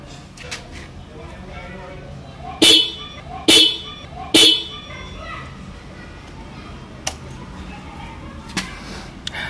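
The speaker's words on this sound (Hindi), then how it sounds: "अभी मैं आपको हॉर्न बजा के दिखाऊंगा।" Old vehicle horns, one on the right side slightly weaker, sound three short, loud blasts in quick succession against background street noise with faint children's voices, followed by a couple of fainter distant toots.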